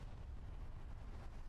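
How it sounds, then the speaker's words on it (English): Satchel charge explosion in the Hell Let Loose video game, a deep sustained low rumble filling the whole stretch with no distinct sharp onset, heard alone without talk. "20 seconds, then we are going to see a big explosion."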